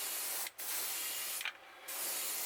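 An airbrush sprays brown paint onto a crankbait lure in a steady close hiss, broken by two short pauses as the trigger is released, with no talking.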